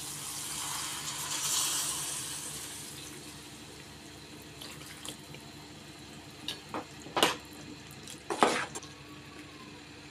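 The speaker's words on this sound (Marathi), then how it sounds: "आता त्यात आपण घालणार आहोत गरम पाणी" Hot water poured into a pan of cooking vegetables with cashews, a soft steady pouring hiss fading out, followed by a few short louder splashes and clinks near the end.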